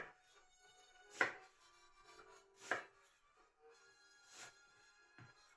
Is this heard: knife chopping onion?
yes